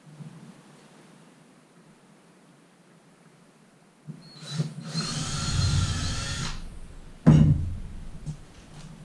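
A power drill drives short screws into a table, whirring steadily for about two seconds up close, then a sharp knock and a brief rattle follow, with a low hum underneath.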